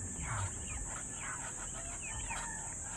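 Several pet chicks peep and cluck in a loose, overlapping chatter close by, over a steady high-pitched background hum.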